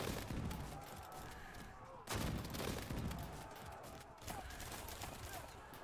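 Volleys of missile and gunfire crackle from medieval units as Polish and German armies of the 1450s to 1490s clash in the strategy game Field of Glory 2. Dense, continuous battle noise comes in repeated bursts, with talk over it.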